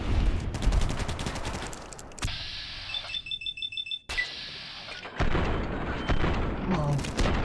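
Gunfire in the video game Fallout New Vegas with mods, a fast volley of booming shots followed by a weapon-switch sequence with short beeping tones and more bursts, under a player's talk.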